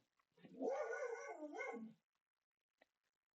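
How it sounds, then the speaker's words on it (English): A single dog lets out a short drawn-out howling bark of about one and a half seconds, somewhat distant and quiet, set against an otherwise silent room. "Sorry for the dog bark."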